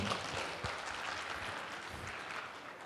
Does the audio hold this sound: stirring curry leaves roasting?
no